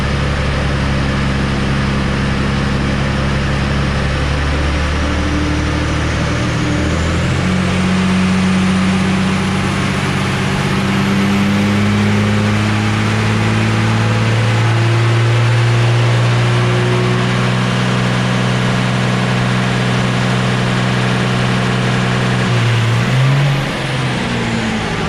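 Tuned truck engine held at full throttle while towing, a loud sustained roar that climbs steadily in pitch as it pulls, close up and without talk, easing off near the end.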